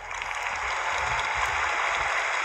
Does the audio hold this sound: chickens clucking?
no